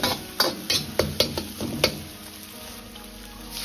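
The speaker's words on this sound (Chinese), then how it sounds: "再倒入控干水分的干辣椒段翻炒，炒出多余的水分。" Dried chili pieces are stir-fried with pork in a wok, with a series of sharp spatula scrapes and clacks over a soft sizzle that fades out toward the end.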